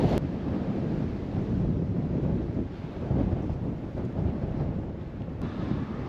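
Strong wind buffets the microphone in a steady, roaring rumble, gusting slightly, with no voices, on open, flat marshland at Romney Marsh, Kent.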